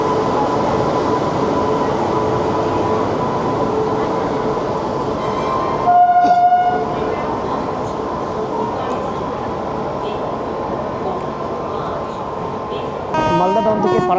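Guwahati SMVT Express train heard from a station platform, a steady loud rumble of rolling stock with a brief tonal squeal midway and clattering toward the end.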